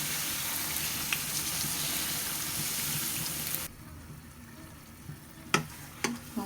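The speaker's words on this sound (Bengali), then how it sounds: "এটাকে সুন্দর করে নাড়াচাড়া করবো" Semolina halwa fries in a pan, a loud steady sizzle with stirring scrapes that suddenly drops away, followed by a few sharp clanks of a utensil against the pan.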